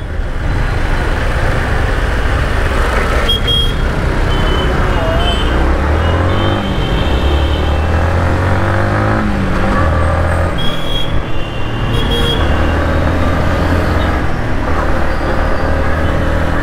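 A 2022 Yamaha MT-15 V2 motorcycle pulls away in first gear, its engine a loud, steady drone under heavy wind rush, with rising and falling revs as the bike accelerates on the road.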